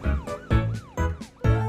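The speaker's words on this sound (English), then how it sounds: "I flash my lights and turn on my siren" Cartoon police truck siren wailing in four quick rising-and-falling cycles, loud and close, each rising sweep starting with a burst of a low horn-like tone.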